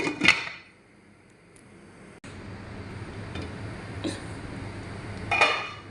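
A metal lid goes back onto a cooking pot of fish sinigang with kangkong, giving a bright clink at the start and another rattle near the end, with quieter kitchen sounds between and no talk.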